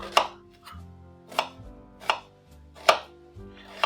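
A knife chops an onion into half-moons on a cutting board, five sharp, evenly spaced thuds about a second apart, close and clear with no speech.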